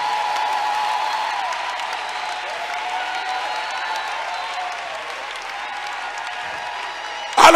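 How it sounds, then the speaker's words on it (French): A church congregation at a Tuesday mass prayer service applauds in praise of the Lord, with sustained, even clapping from a large crowd filling the room and faint voices mixed in, ending in a brief louder burst. "Acclamez le Seigneur."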